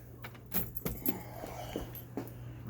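Car keys for a 1966 Pontiac GTO jangle in several short metallic bursts, close and fairly quiet over a low steady background hum.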